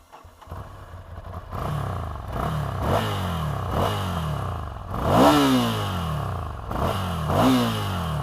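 A Ducati Scrambler motorcycle engine starts and revs in a series of rising, falling throttle blips, each rev swelling and dropping back, loud and close with no talking.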